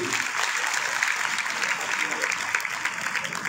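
An audience at a public function claps steadily for a dignitary, a dense sustained wash of applause with scattered voices underneath.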